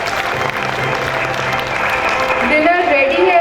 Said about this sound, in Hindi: तमाम प्राइज विनर्स के लिए जोर तालियां आनी चाहिए